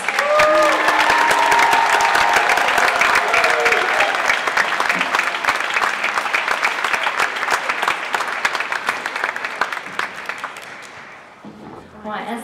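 An audience at a concert in Cadogan Hall breaks into loud, sustained applause with some cheering for three directors, then the clapping thins out and fades near the end as a voice returns.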